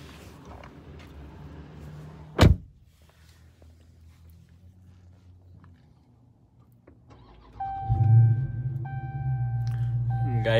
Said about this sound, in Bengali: গাড়িটা স্টার্ট দিলাম